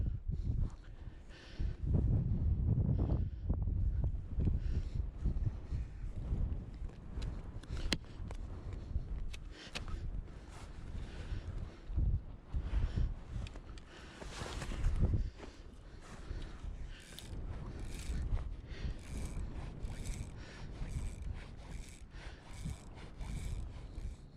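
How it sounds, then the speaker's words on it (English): Gusty wind buffets the microphone outdoors by the water on a fishing trip, making low, rumbling surges that rise and fall irregularly with occasional rustling, loudest in the first few seconds. "Still quite gusty though, for a forecast that was for calm."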